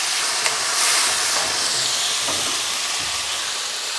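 Chicken stir-frying on high heat in a wok, giving a steady, close sizzling hiss that swells and eases slightly as the pieces are moved around, with no talk.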